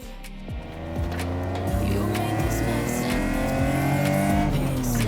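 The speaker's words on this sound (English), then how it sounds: "This one I'm driving today is powered by the straight six found in the E36 M3" A BMW E30 powered by the E36 M3 straight-six engine revs and accelerates loudly and close, its rising engine note climbing through gears with steady intensity.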